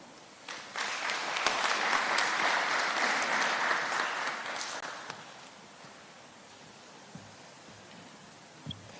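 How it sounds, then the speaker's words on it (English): At a UNDP energy conference, the audience breaks into applause that swells for several seconds, then tapers off into a quiet room with only faint rustling. "Please, a round of applause"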